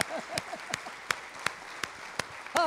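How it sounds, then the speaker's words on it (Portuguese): Church congregation applauding during a Portuguese-language service, a sparse, quiet patter of separate claps with a few sharper near claps and brief murmured voices underneath. "Então aplauda ao Senhor"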